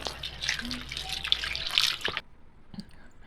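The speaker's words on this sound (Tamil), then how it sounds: "நம்ம தண்ணி ஊற்றி நல்லா கழுவிடலாம்" Water pours and splashes over seer fish as it is rinsed in a kitchen sink, with irregular close drips and splashes before a short pause and a few trailing drops.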